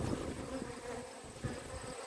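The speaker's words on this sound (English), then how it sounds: "All animals need water, and bees need water." Bees buzz faintly while sipping water at a pond outdoors, a steady low insect drone with no voices.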